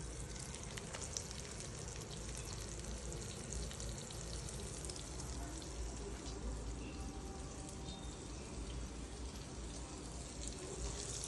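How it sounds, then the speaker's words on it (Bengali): Fish frying in a pan for a lemon butter fish dish makes a steady, dense sizzle with faint crackles throughout, fairly quiet and with no voices. "জাস্ট করে আস্তে আস্তে আমি এগুলোকে প্যানের মধ্যে দিয়ে দেবো"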